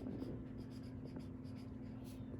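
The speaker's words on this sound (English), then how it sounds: "So then I'm going to write" A pen or pencil scratches on paper in a first grade writing lesson. The strokes are faint and steady over a low background hum, with no talk.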